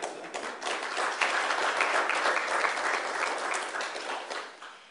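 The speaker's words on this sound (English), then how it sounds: "The regional and international applause are appropriate at this point." Audience applause at a U.S. ambassador's trade hub launch event in Botswana, a dense sustained crowd clapping that swells quickly, holds steady, then tapers off near the end.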